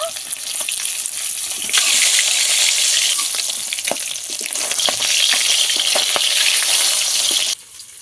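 Fish fries in hot oil, a loud, dense, continuous sizzle with crackling pops and occasional stirring clatter, dropping away abruptly near the end.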